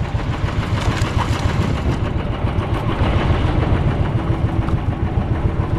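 A boat engine runs steadily and loudly at close range in Siargao, a continuous low rumbling drone with no pauses.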